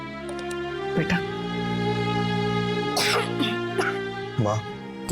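A young girl coughs several times in short bursts over a steady background hum, with the coughs spread across a few seconds and sounding fairly close.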